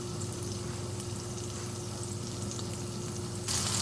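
Stir fry sizzling in a hot pan over medium-high heat, a steady close crackling fry that runs unbroken and grows slightly louder at the very end.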